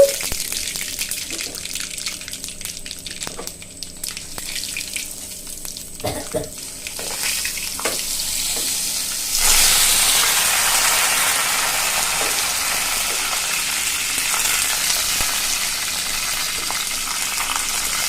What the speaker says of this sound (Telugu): ఆవాలు వేసేసి కరివేపాకు వేసేసి మినపప్పు వేసేసి